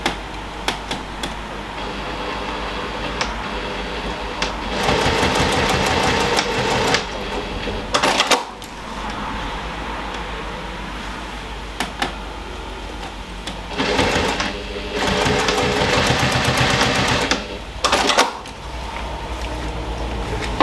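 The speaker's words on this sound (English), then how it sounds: "So I'm going to sew it at 1/4 inch and hold both of them in place." A sewing machine stitching a quarter-inch seam on a tote bag runs in several close, rapid whirring bursts separated by brief pauses, steady and mechanical with no talking.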